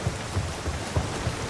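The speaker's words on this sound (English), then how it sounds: "So now we're going back outside again, and it's raining." Rain falls in the action game Nioh, a dense, steady hiss with soft low thumps underneath, fairly loud and continuous with no talking.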